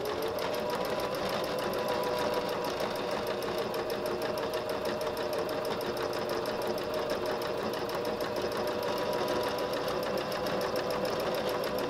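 A sewing machine stitches a quilted heart, running in a fast, steady, continuous mechanical whir at close range for the whole stretch without pause or talk.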